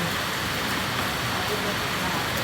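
Heavy rain falls in a steady, dense hiss after three nights of downpour, with floodwater rising over the village's farmland in Phon Muang, Thailand. The roar is constant and close, with no pauses.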